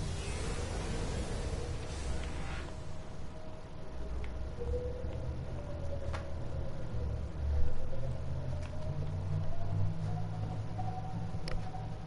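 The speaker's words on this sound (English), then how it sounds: "Engine powering up." A vehicle engine powers up in the Subnautica video game as a low, steady hum and rumble that swells slightly and then holds, with faint ticking and clicks above it. No talk.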